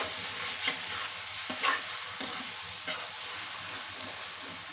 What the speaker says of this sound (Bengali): আবারও ভালো করে একটু নেড়ে করে নেব।